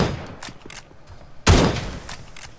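Gunfire bursts in the mobile battle royale game PUBG Mobile, a few scattered shots then a loud close burst near the middle, trailing off with further rapid reports.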